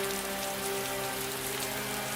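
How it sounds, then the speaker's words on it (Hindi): Heavy rain pours over a village in a cartoon scene, a dense steady hiss of drops on surfaces, loud and unbroken with no voices. "देखते ही देखते बारिश पूरे गांव पर कहर बनकर टूट पड़ती है।"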